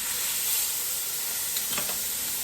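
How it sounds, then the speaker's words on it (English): A chuck roast sears in a hot pan with a steady, close sizzling hiss, and a couple of brief scraping touches come near the end. "Now, searing it, if you're just wanting to brown on all sides."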